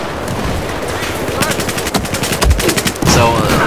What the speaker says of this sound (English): There goes the flashbangs.